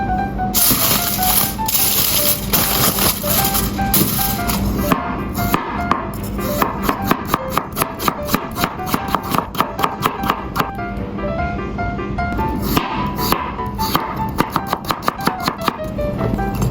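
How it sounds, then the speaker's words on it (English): Knife slicing peeled potatoes on a cutting board, a fast run of crisp, evenly spaced chops close up, repeating steadily throughout. "Peel and slice potatoes."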